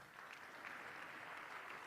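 Steady, dense audience applause at a business management congress, continuous and fairly even throughout, a broad wash of many hands clapping with no clear speech over it.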